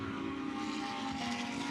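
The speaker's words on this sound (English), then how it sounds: "Just trying to get the engine restarted" A Lamborghini Super Trofeo race car stranded at turn 11 of the Shanghai circuit after a spin under braking runs with a steady, droning engine note, loud and continuous at a distance, with no break or revving change.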